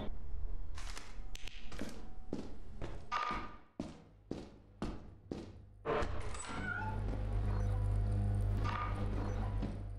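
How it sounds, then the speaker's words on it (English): Cat meows in the horror co-op video game Brutal Company: a run of short, sharp cries repeating roughly every half second for about six seconds, loud and close, followed by a steadier humming background. "I heard a cat and I'm going back."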